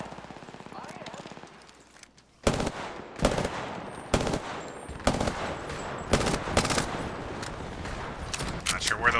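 Bursts of automatic gunfire in the shooter game Apex Legends, several loud sharp volleys after a quieter stretch, with a player talking in between.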